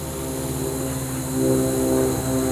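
A propeller airplane drones steadily overhead, a low continuous engine hum that swells slightly louder midway through, with no voices.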